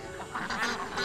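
Ducks quack in a short, close, fairly loud burst of overlapping nasal calls, with no speech over them.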